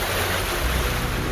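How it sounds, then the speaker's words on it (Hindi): Strong wind buffets and high sea waves churn along the coast at Rameswaram, a dense, loud, continuous roar of surf and gusts with no pause. "तेज हवाएं चल रही हैं, समंदर में ऊंची ऊंची लहरें उठने लगी हैं।"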